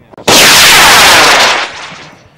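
A model rocket motor ignites with an abrupt, loud roaring blast that holds for over a second, then fades as the rocket climbs away.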